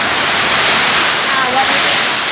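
A loud, constant roar of strong wind in Trinidad, Guindulman, a broad rushing noise that buffets steadily without letting up.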